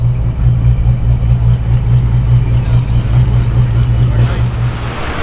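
A car pulls up into an AutoZone parking lot, its engine a steady mid-pitched hum heard from inside, while someone talks over the sound.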